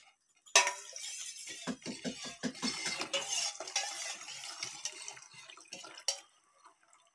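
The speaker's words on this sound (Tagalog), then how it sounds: "ilagay na rin natin itong ating 1½ cup ng chicken broth" One and a half cups of chicken broth pour into a pan while macaroni is being cooked. A splashing liquid rush starts with a clink and gurgles on for several seconds, then ends with a few scattered clinks of utensils. No one speaks.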